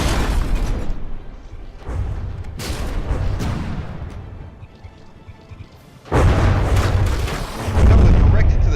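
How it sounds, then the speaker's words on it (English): Shells striking frigate side armor in From The Depths, a series of deep booming impacts, the heaviest arriving in a loud burst near the end over low rumble. "Penetrated the Kolibri side armor, took out the secondaries and both of the primaries"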